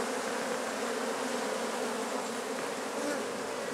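A dense, steady drone of many honey bees buzzing together fills the air, loud and close with no pauses and no voices.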